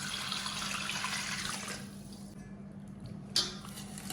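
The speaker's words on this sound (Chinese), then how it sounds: "放入盆中，然后加上大约30-40度的温水" Warm water, around 30 to 40 degrees, running and splashing into a basin holding seared pork for a Xinyang braised pot dish, a steady wash that eases off partway with a small splash near the end.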